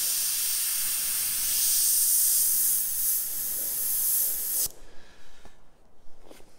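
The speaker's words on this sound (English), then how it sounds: "Use that double action airbrush." A double action airbrush sprays paint with a steady, loud airy hiss for several seconds, then it cuts off and leaves a few faint ticks and soft short bursts of air.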